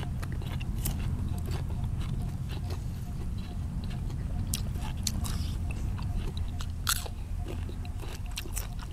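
Crunchy chewing and biting at a Thai home meal of raw beef or liver larb with sticky rice and chili dip, steady close mouth crunches throughout with a low background hum and no talk.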